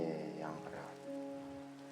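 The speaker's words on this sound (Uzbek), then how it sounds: "Yomg'ir." Rain falls in the Minecraft video game as a faint, soft patter heard briefly alongside tonal game sounds.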